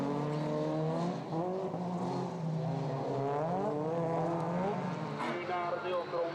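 Rallycross cars, including an Opel Corsa, a Volvo 242 and a Volvo S40, race at Maasmechelen: engines whine and rise and fall in pitch in the distance under a commentator's steady voice.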